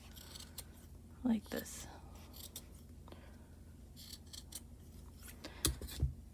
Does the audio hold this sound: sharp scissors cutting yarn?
yes